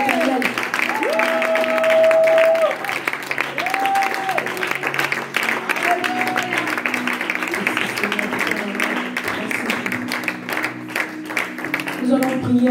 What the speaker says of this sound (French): Est-ce que quelqu'un peut applaudir la parole éternelle?